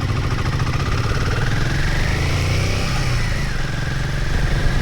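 A Royal Enfield Himalayan 450 motorcycle engine runs steadily and loud throughout, a deep mid-pitched rumble with a slight rise in revs partway through, no voices.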